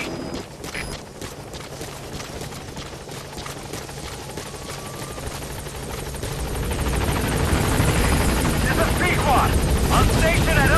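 Helicopter rotor thudding steadily in the Metal Gear Solid 5 game as it arrives, growing louder and closer toward the end, with radio-style voice chatter over it.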